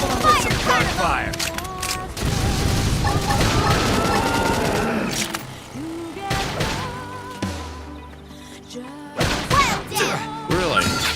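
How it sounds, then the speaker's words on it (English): Gunfire bursts in the video game Xenoblade Chronicles X, mixed into a loud, busy battle soundtrack with music, impacts and character shouts throughout. "Topple him with some gunfire!"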